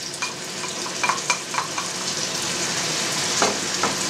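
Sauce and chopped tomatoes for Georgian stewed beef sizzle steadily in a pan, with scattered scraping clicks from stirring; no voices.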